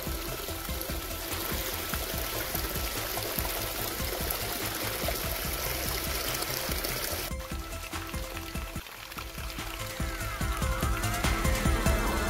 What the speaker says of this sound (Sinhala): උල්පත් දෙකක ජලය මෙතනදී එකතු වෙලා තමයි පල්ලෙහාට ගලාගෙන යන්නේ